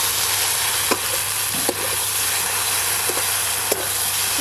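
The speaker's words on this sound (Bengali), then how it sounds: "খুব ভালো করে ভেন্ডির সঙ্গে মিশিয়ে নেব।" Okra being stirred in a pan with poppy seed paste, green chilli and mustard oil, giving a steady close sizzle with a few sharp scrapes of a spoon against the pan.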